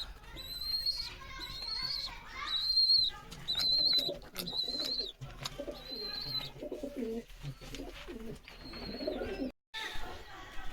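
Andhra and Madras breed pigeons, including young birds, cooing up close: repeated throaty coos and soft calls from several birds, with a few high whistling notes and faint rustling around them.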